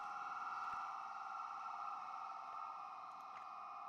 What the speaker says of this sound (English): I believe there's police cars coming up there.